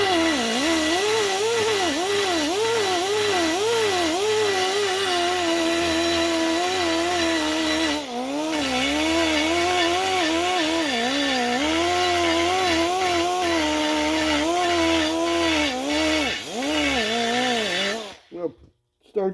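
A carbide burr grinds steadily inside a cast intake port on a 565 big block Chevy blower engine, making a continuous loud whine whose pitch wavers as the tool is pulled through, with brief dips before it stops.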